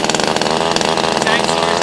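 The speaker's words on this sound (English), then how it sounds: "chainsaw is now operating." A PCH25 chainsaw runs loud and close with a steady, buzzing engine drone, holding a rough continuous pitch throughout the short stretch.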